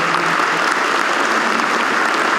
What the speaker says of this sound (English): one big round of applause for our veteran honor guard this evening